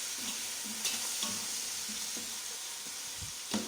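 Coriander, mint and three green chilies fry with onions for a homemade chicken biryani, giving a steady close sizzle broken by several scraping stir strokes against the pan, with no talking.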